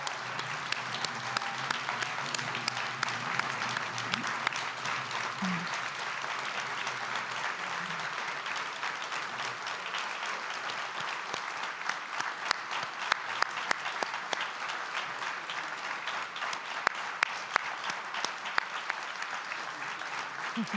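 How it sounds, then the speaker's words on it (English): A large audience at a democracy summit in Dayton, Ohio applauds steadily to welcome a speaker to the podium, a dense and sustained wash of clapping that runs for about twenty seconds with faint crowd murmur underneath. "Let's give him a round of applause."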